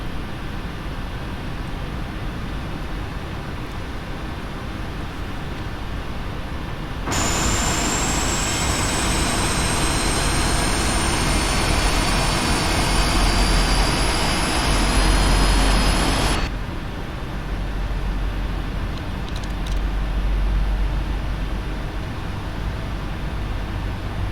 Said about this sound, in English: engines 3 and 4 are stable, starting 2 and 1.